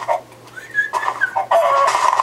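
Chicken clucks and short bird-like calls from Minecraft, a few quick bursts close and fairly loud over a low steady hum, with no talk.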